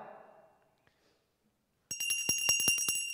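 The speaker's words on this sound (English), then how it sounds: "which is why I continue to ring the bell" After a faint stretch and near silence, a hand bell rings rapidly and loudly, its bright metallic strikes repeating in a quick tremolo close by.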